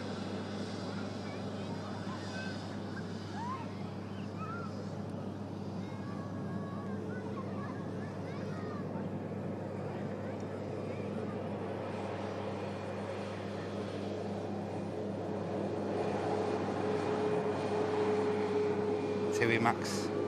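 An Airbus A330 climbs away after takeoff, a distant, steady jet roar that slowly swells louder toward the end.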